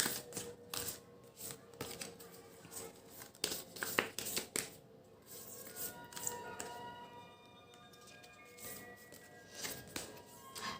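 Tarot cards are handled and drawn, producing soft, irregular shuffling, tapping and flicking sounds close by at low volume, with a faint voice at times.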